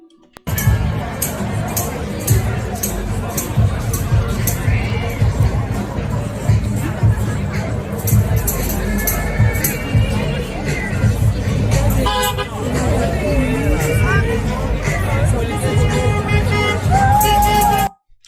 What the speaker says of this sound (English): Not a bad crowd, right?